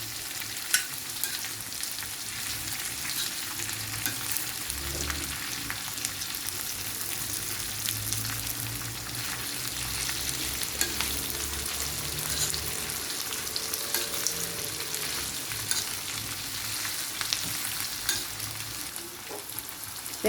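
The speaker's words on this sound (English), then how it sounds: "we'll mix them together so that they can absorb the flavor and saute" Breakfast sausages sauté in a hot pan, a steady broadband sizzle running throughout with scattered crackles and low scraping as they are stirred now and then, close and continuous with no voices.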